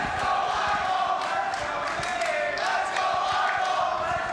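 A crowd at the Classic Tetris World Championship semifinals chants continuously and loudly, a dense, steady roar of massed voices with rhythmic swells throughout.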